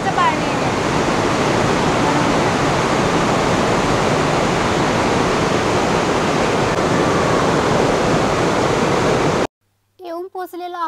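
Waterfall water thunders through Liechtensteinklamm gorge in Austria, a loud, steady broadband roar filling about nine seconds before cutting off abruptly, followed by a brief spoken voice.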